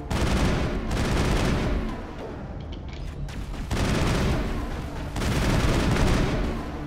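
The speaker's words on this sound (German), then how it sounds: "Wir hatten Pistole, aber ich nehme mal das Sturmgewehr." Assault rifle fire in Mass Effect 1 comes in three loud, close bursts of rapid shots, separated by short pauses filled with lower in-game noise. No voices are heard.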